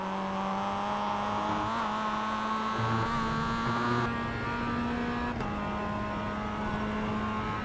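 A Mazda MX-5 race car in the iRacing simulator at Oulton Park holds a steady, buzzing engine drone throughout, with a slight throttle swell near the middle and no voices.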